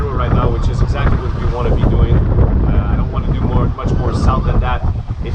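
Offshore wind buffets a sailboat, a loud, steady rush and microphone roar under a voice talking throughout.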